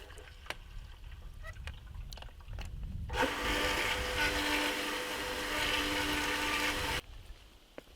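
A cottage water system pump kicks in with a sudden broadband whir and hum and runs steadily for about four seconds before cutting off, loud and close, with quieter rustling and background noise on either side.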